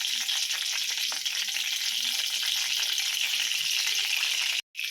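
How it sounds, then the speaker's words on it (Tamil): Onions frying in a pan make a steady hiss of sizzling oil throughout, moderately loud and close, with no talk, cutting out briefly near the end. "ஒரு 3 வெங்காயம் கட் பண்ணி வச்சுருக்கேன். இதை நல்லா ஃப்ரை பண்ணி எடுத்துக்கலாம்."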